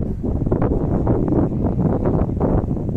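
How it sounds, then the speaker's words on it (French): Gusty wind buffets the microphone in uneven rumbling bursts near a Corsican port, rising and falling continuously with no voices present. "Le vent se lève"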